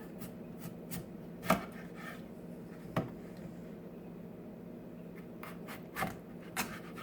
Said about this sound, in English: This one's going to be a big one, so I'm going to cut this one in half again.